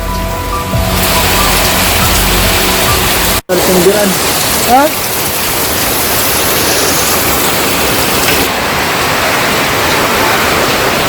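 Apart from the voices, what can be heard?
heavy rain with wind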